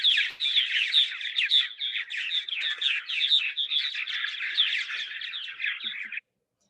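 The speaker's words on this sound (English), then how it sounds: "That's the dawn song." Purple martins deliver their dawn song, a dense stream of gurgling chirps and warbles from several birds that runs continuously for about six seconds before cutting off abruptly.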